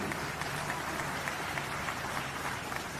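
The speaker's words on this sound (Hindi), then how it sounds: "उनके लिए तालियां।" A crowd at a political rally in Jhajjar district, Haryana, gives steady applause, faint and distant, a continuous wash of clapping with no clear breaks.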